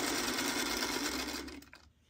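A sewing machine stitches 1.5-inch fabric quilt squares together, running in a fast, steady close-up whir for about a second and a half before slowing and stopping with a few faint clicks.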